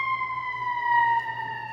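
Emergency vehicle sirens pass at a moderate distance, one steady wailing tone that holds and slowly falls in pitch across the short stretch, over a low traffic rumble.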